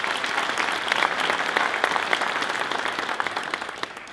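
An audience at a Corvette Racing seminar breaks into steady, sustained applause, a dense wash of clapping that holds at an even level across the moment.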